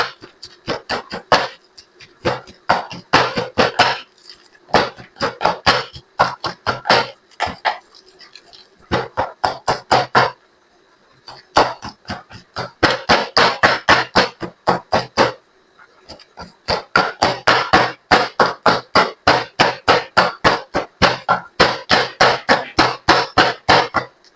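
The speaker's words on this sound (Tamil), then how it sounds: "இப்ப நாங்கள் எல்லாத்தையும் கலந்து இடிச்சு கொள்ளுவோம்" Garlic and chilli powder pounded together for garlic chutney, likely in a mortar: rapid, regular thuds in long bursts separated by short pauses, loud and close, with no talking.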